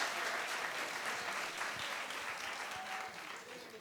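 An audience at a talk applauds in a steady, dense wash of clapping that carries on evenly and fades slightly toward the end.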